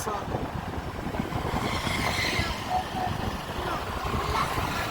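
Steady roar of cars and trucks passing close by on a highway beside a super highway construction site, a continuous wash of traffic noise with no breaks.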